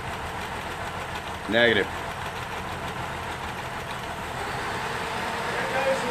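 A 2006 Cadillac CTS with a 3.6 liter VVT engine idles in a steady low rumble, with a man's short spoken reply breaking in briefly near the start.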